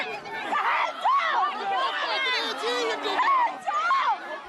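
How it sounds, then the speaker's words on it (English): A protest crowd surges against riot police during a scuffle, a dense babble of overlapping shouting and raised voices that stays close and agitated throughout. "As the crowd surged forward, the riot squad held them back"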